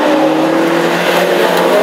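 A classic hot rod race car engine running with a serious misfire during a circuit race final, a loud, steady, rough engine drone held close throughout without a break.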